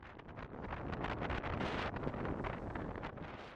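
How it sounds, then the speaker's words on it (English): Wind roars steadily across the microphone aboard a sailboat sailing close to the wind on an ocean passage to New Zealand, a constant loud rushing broadband noise with no talking. "sailing close to the wind."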